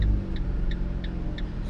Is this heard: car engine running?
yes